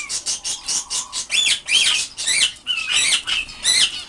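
Pet canaries in a home cage give bursts of bright chirps and tweets mixed with quick wing flapping, close and lively, in short repeated flurries with no talking.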